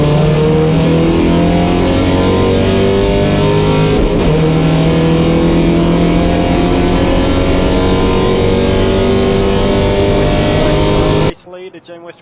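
Porsche 944 race cars on Yokohama tyres streaming past at a circuit, loud overlapping engine roar with rising and falling pitch as cars pass close, cutting off abruptly near the end.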